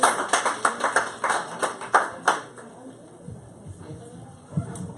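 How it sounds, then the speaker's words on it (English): A small audience claps for a man named Don at an event, a short, uneven burst of distinct handclaps that fades out after about two seconds, followed by quiet shuffling and a voice speaking. "Give another round of applause to Don"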